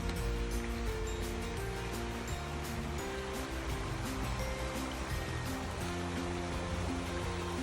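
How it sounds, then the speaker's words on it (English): Walla Walla River rushing past a bridge in Milton-Freewater, Oregon, a continuous dense roar of moving water, close and loud with no voices. "see the gorgeous rushing Walla Walla River"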